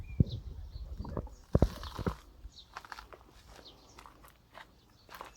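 Footsteps along the bank of a fishing pond, several uneven steps on soft ground, fairly close and moderately loud, with faint outdoor ambience between them.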